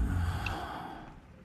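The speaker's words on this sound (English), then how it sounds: "Can't you breathe a little quieter?" Person breathing loudly into a microphone, a close, heavy exhale that rushes out and slowly fades, with a short sharp click partway through and no speech.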